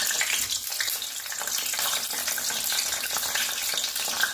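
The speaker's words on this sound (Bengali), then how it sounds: "বেগুনগুলোকে উল্টে পাল্টে ভেজে নিচ্ছি" Steady, busy sizzling of whole eggplants frying in hot oil fills the whole stretch, crackling continuously with no voices.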